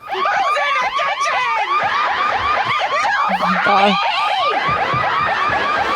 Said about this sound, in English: That was a false alarm.